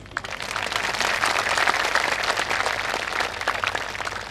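Applause from a crowd gathered for a Shri Ram Katha religious discourse in Chittorgarh, a steady wash of many hands clapping that swells and holds for several seconds at moderate loudness.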